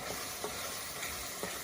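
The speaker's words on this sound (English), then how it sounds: "I'm sauteing these onions for a couple of minutes" Onions sauté in a hot pan with a constant, close sizzle and crackle, punctuated by a few soft scraping stirs at regular intervals, with no talking.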